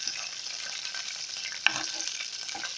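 Chicken pieces frying in oil in a small pot sizzle steadily with a constant crackle, and a single sharp clink of a utensil comes partway through, with no talking.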